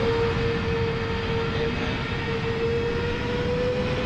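Steady, loud jet engine drone from an Airbus A320 with IAE engines in the Fenix A320 flight simulator, a constant roar with a sustained whine, unchanging throughout.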